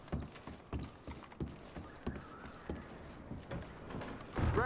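Horses in the Red Dead Redemption 2 video game shift about while being packed, with irregular hoof clops and creaking tack and gear knocks close by, moderately quiet, ending in a louder clunk.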